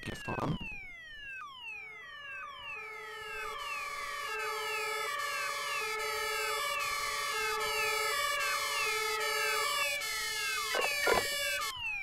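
Several emergency vehicle sirens in the game Emergency 20 arrive one after another, their wailing, sweeping tones stacking into a loud, steady chorus that holds for several seconds, with a brief sharp burst near the end.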